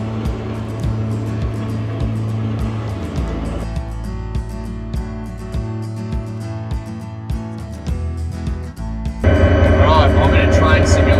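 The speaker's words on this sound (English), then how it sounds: "So there you go, that's a diesel engine." An older diesel train engine runs with a loud, steady, throbbing drone whose pitch and texture shift a few times, ending in a louder, harsher stretch.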